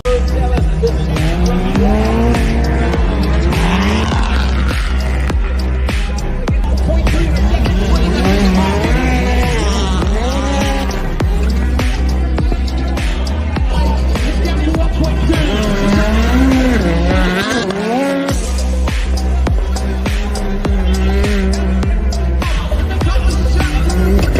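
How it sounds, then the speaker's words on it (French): Race cars competing on an ice track during the FAT Ice Race finals, engines roaring loudly and continuously with rising and falling revs, tire squeal and skidding on ice, and a crowd murmuring beneath the racket. "je pense que les finales vont être sympas à voir. On va replonger un petit peu dans l'action."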